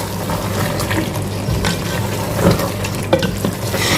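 A spoon stirs and scrapes through potatoes, masala and half-boiled rice in a sizzling pot for Sindhi biryani, with wet clinks and a steady frying hiss close up.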